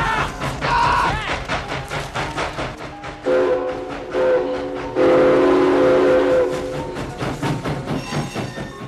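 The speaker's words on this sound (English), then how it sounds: "the sound of a train whistle echoed in the distance" A train whistle sounds in long sustained blasts over a rumbling, rhythmic background, loud and prominent, with a short earlier tone before them.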